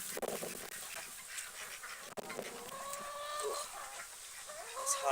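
Chickens cluck and ducks quack on a muddy farm in mixed, overlapping calls, some near and some farther off, with a few sharp knocks in between and no talking.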